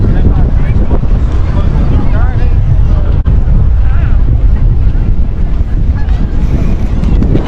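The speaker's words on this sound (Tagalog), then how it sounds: "Ang hangin." Strong wind buffeting the microphone beside the Round Pond in Kensington Gardens, a loud, steady low rumble with gusting roar, while a voice speaks faintly beneath it.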